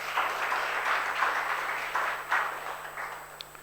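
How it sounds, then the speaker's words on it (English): Audience applause at a business book award ceremony during a literature festival in Bangalore, a steady broad wash of clapping that holds for a few seconds with slight swells, moderately close and without talk. "One more round of applause, please."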